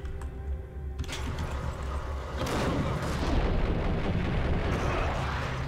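Heavy, dense gunfire from a Colt Commando rifle in the Max Payne video game comes as a sustained, loud rumbling barrage with booming low-end blasts and no talking.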